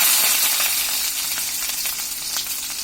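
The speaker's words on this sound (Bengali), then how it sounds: "তেলটা গরম হয়ে গিয়েছে। এখন এই পর্যায়ে যে পেঁয়াজ কুচিগুলো আছে সেটা আগে দিয়ে দিব।" Chopped onions dropped into hot oil, a loud, dense, continuous sizzle and crackle up close, gradually easing slightly over a few seconds.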